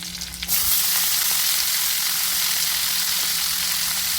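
Garlic and curry leaves hit hot oil with a sudden burst, then settle into a loud, steady sizzle of frying that continues unbroken, with no voices, while a North Karnataka vegetable dish is being cooked.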